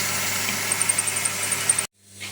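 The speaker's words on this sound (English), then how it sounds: "now we start turning down the outer diameter" Lathe turning down the outer diameter of a small part for a supercharged Honda NSX build, a steady broadband machining hum with faint rhythmic ticks, ending abruptly in near silence.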